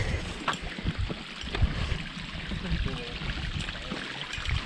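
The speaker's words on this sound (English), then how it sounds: "Beautiful waterfall." Outdoors at a mine climbing area in Superior, Arizona, a waterfall gives a steady, dense rush of falling water with faint voices underneath.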